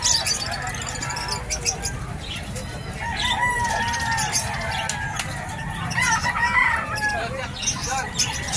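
Chickens clucking and a rooster crowing among stalls at the Bocaue pet market, the calls moderately close and repeated over steady crowd noise and chatter.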